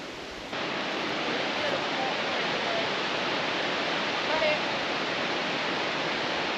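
A waterfall on Flores island in the Azores roars steadily throughout, a dense continuous wash of falling water heard up close.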